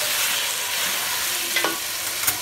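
Onion and chopped tomato fry and are stirred in a pan for chicken jalfrezi, giving a continuous close sizzling hiss with a few scraping stir strokes near the end and no talking.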